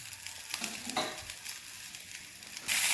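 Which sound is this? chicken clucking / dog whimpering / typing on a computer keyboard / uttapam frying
uttapam frying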